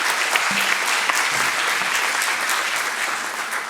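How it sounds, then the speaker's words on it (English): A conference audience applauds the four panelists on stage at a sustainable banking forum in Bangkok, with dense, steady clapping that fills the hall throughout and stays loud from start to finish. "I would like to ask a big round of applause for the 4 gentlemen upon the stage"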